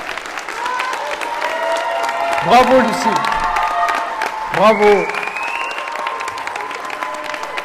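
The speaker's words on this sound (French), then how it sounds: "Lucille, un tonnerre d'applaudissements plus fort." Applause and cheering for Lucille, placed fourth at the Eloquentia Bordeaux speaking final, roll on steadily while a voice calls out over the crowd and a louder swell breaks twice.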